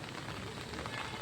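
Rain falls steadily, a faint, even patter and hiss with no distinct drops standing out, lasting only a moment.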